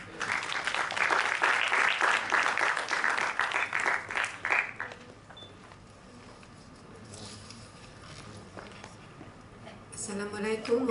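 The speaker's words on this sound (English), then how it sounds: "Round of applause" An audience at a formal ceremony applauds as a vice-chancellor is invited to speak; the dense clapping lasts about five seconds, then fades into quiet room tone before a voice begins.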